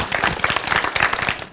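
A church congregation gives a short burst of welcoming applause for two visiting guests, brisk, close clapping from many hands that rises quickly and fades within a couple of seconds.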